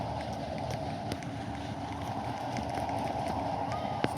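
Wind blowing before rain, a steady broadband rush with a few faint clicks and knocks in the background, with no talk.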